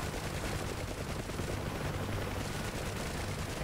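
Rapid machine gun fire rattles continuously from a Huey UH-1 helicopter in the DCS flight simulator, dense and loud over the rotor roar with no pauses.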